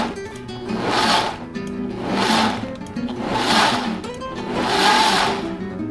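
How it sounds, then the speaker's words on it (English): A powerful MMB160 blender pulses gazpacho ingredients, including Turkish pepper, in four loud whirring bursts about a second apart, each swelling and easing off, with no talk. "the great thing about this blender, again, is it's so powerful"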